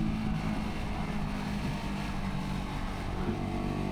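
Honda NT1100 motorcycle engine running steadily at close range, a continuous low rumble with a sustained drone and no voices over it.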